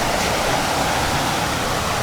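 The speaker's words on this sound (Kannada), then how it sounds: "ಇಲ್ಲಿ ನೋಡಿ, ಇಲ್ಲಿಂದ ರಿಲೀಸ್ ಆಗಿ ಫಾಲ್ಸ್." A waterfall in the jungle of Ubud, Bali roars as a steady, dense rush of water, loud and close without a break and with no voices.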